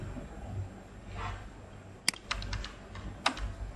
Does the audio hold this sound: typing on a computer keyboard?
yes